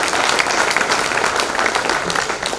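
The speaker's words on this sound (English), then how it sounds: "I think they deserve another round of applause for the overall performance" Audience applause at a school annual day event at St Xavier's High School, Panchgani: dense, steady clapping from a large crowd, loud and continuous throughout with no pauses.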